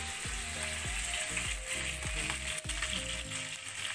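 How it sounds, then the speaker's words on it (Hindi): Hilsa fish frying in a pan in a Tokyo apartment kitchen, a steady crackling sizzle heard close, with a tonal hum and rhythmic pulses running beneath it. "फिश फ्राई हो रहा है, हिल्सा फिश"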